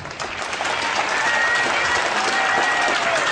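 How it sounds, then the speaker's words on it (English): An indoor crowd at a political speech event in Hazleton, Pennsylvania gives steady, loud applause that swells quickly and keeps going, with scattered cheering mixed into the clapping. "Let's have a big round of applause"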